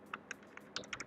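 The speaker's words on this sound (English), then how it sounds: "Let me type Bluetooth FM transmitters." A computer keyboard clicks as a short burst of about seven quick, light keystrokes typing a search, close and soft, with no talking.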